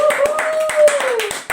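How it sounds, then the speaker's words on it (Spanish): A congregation claps together during a church service, a series of sharp, rhythmic hand claps under a sustained singing or speaking voice. "Démosle un aplauso al Señor."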